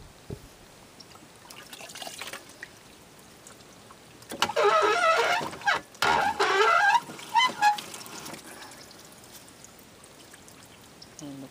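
Clothes are hand-washed a few pieces at a time in a bucket, water sloshing and splashing in several bursts through the middle, moderately loud against a quiet background.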